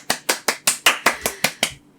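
Nine evenly spaced, crisp claps in a steady rhythm, close and distinct, each sharp hit fading quickly before the next, then stopping into quiet.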